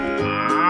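A single sustained cow moo from a 3D animal slide video game, loud and close, holding steady for its whole short length with no talk over it.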